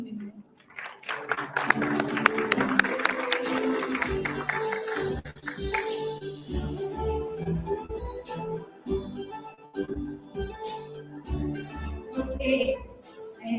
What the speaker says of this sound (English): let's give a round of applause for this amazing women